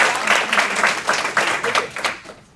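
An audience at a live stage show claps in a steady, rhythmic burst of applause, moderately loud and filling the hall before fading at the end.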